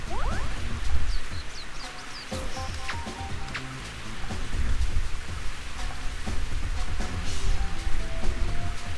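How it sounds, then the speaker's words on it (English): Steady rain falling over a golf course in the Nintendo 64 game Mario Golf, a constant hiss running throughout, with game music and sound effects over it. "That rain. That damn rain."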